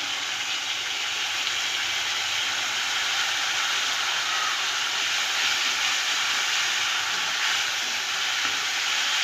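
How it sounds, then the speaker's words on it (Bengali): Ground spice paste with green chillies frying in a pan after a little water is added, a steady, even sizzling hiss with no breaks, close and fairly loud, no speech. "এটাকে ভালো করে কষবো একটু হালকা জল দিয়েছি মশলাটা ভালো করে কষে নেব"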